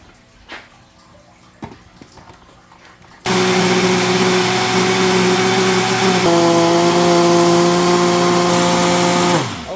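A blender roars on suddenly and runs loud and steady making an oatmeal banana smoothie, its motor pitch dropping slightly partway through as the contents churn, then cuts off.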